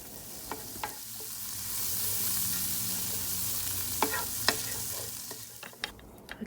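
Minced ginger and garlic frying in a pan, a steady hiss of sizzling oil with sharp clicks of a utensil stirring against the pan, close and moderately loud, no talk.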